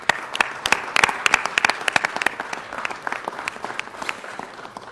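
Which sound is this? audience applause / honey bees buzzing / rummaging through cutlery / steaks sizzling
audience applause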